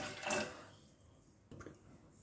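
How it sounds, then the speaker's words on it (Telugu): A brief splash of about a quarter litre of water poured into a pot, fading after a moment, followed by a softer second splash. "ఇందులో కొద్దిగా వాటర్ వేసుకోండి"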